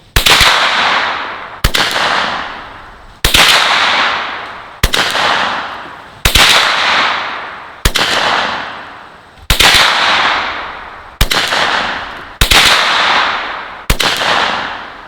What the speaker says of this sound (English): Let's do 5 shots of each and go down there and check.